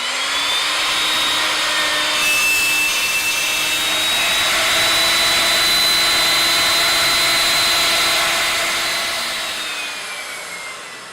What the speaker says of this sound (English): the router is set to cut a 6mm deep rebate.